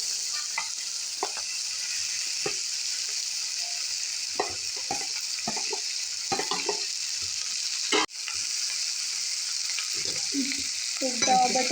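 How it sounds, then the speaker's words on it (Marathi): Mashed potatoes fry in a pan for Mumbai-style pav bhaji with a steady hiss of sizzling oil, punctuated by scraping stirs and a sharp knock of the spatula against the pan. "एकदा बटाटे फ्राय करून घेऊया."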